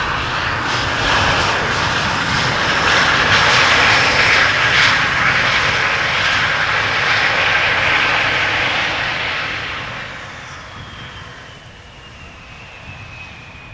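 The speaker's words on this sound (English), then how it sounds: "I'm thinking this is an Embraer 175." An Embraer 175 jet at Amsterdam Schiphol Airport makes a loud, broad engine roar that holds steady for several seconds, then fades as it moves away.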